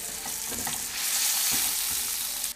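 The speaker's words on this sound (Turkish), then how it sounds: "Toplam 15 dakika kıyma kavrulacak." Minced meat sizzles and crackles steadily in a hot pan while being stirred, a close, continuous frying hiss with occasional scraping.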